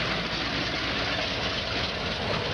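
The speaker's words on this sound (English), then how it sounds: "So they've actually converted trucks to run on burning wood." A truck converted to burn wood for fuel idles nearby, a low, steady rumbling drone that holds at an even level throughout.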